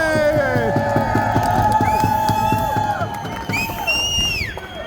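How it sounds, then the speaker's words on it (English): An outdoor rally crowd honoring assemblymen and women cheers loudly, with whoops and shouted voices rising and falling over a dense crowd roar. Distinct clapping is hard to pick out. "let's give another big round of applause to all the assemblymen and women who came out here"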